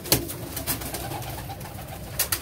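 A pigeon coos softly in a loft of fancy pigeons, low throaty calls repeating under faint background clatter with no talk.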